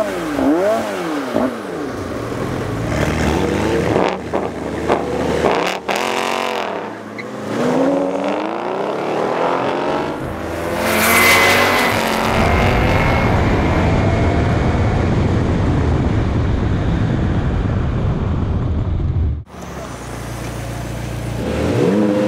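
A McLaren 720S with full traction control and no launch control accelerates hard through the gears, its engine note sweeping up and dropping at each shift before a long loud roar with wind rush, then cutting off abruptly.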